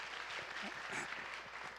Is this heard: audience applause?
yes